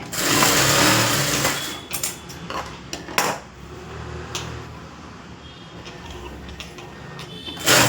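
A sewing machine stitches a boat neck blouse, running in a steady mechanical whir with brief clicks and pauses, close and fairly loud with no talking.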